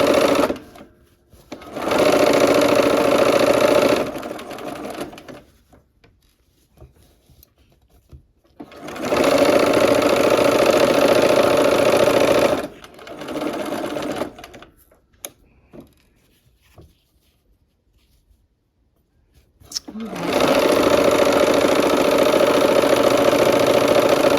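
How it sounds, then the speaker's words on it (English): Sewing machine stitching the final seam of a barn quilt sampler, running in three loud, steady whirring bursts of several seconds each, separated by quiet pauses with faint handling noise. "here we are at the machine for this last seam"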